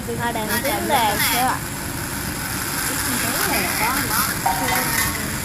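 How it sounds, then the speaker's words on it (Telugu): Ginger paste being stirred into veg biryani in a pan, with scraping and soft sizzle running steadily beneath continuous talking voices. "మా అత్త అల్లం పేస్ట్ వేసేసింది చూడండి ఫ్రెండ్స్. వేసి కలిపేస్తుంది చూడండి"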